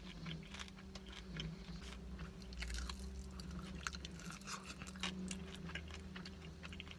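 Faint crunchy chewing of sweet Filipino fried chicken, repeated soft crackles and bites over a quiet hum of room noise.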